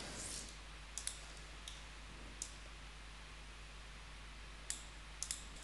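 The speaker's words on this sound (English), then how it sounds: "Let's double click to open it." A computer mouse gives a quick double click, then a few more sharp isolated clicks spread over several seconds. The clicks are close and crisp against a quiet room hum, with no talking.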